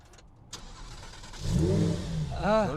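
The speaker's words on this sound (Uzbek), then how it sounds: "Men bitta borib qizitib kelaman motorni" A car engine starts and then revs up in several rising surges, loud and close, during a warm-up before a street race.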